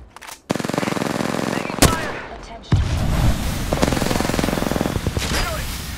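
Automatic gunfire in the video game Apex Legends comes in loud, rapid bursts, with a couple of sharp single shots between them, all close and dense.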